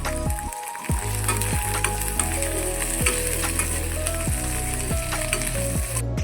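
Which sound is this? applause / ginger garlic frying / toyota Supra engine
ginger garlic frying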